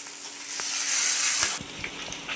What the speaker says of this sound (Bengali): এবারে কাঁচকলাগুলো তেলে দিয়ে দিলাম।